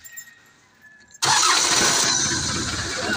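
A Mitsubishi Canter truck engine, just fitted with a repaired starter, fires up abruptly after a quiet moment and settles straight into a loud, steady, rumbling idle.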